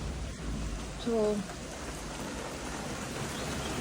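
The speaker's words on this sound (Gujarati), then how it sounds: "અચાનકથી અત્યારે 10 મિનિટ પહેલાં એટલો જોરનો વરસાદ ચાલુ થઈ ગયો અને તમે જોઈ શકો છો" Heavy rain pours down in a steady, close, even hiss for the whole stretch, while a voice speaks a single brief word over it.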